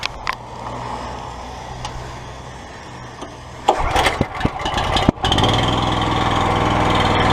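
Gas pressure washer engine firing up after a quiet idle stretch, a few uneven sputters and bursts before it settles into a steady loud running drone to the end.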